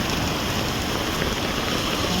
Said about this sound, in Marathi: बघा पाऊस भरपूर आहे